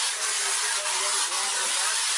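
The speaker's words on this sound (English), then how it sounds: "Spray everything down." A continuous hissing spray from an aerosol can of scent spray indoors, close and steady, with a few brief pulses in the hiss.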